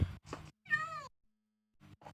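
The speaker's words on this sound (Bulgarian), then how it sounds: "Има котенца тук." Cats meowing in Minecraft skyblock, a few short mews and one longer drawn-out meow, then a pause before two more brief calls, clear and fairly close with no talk.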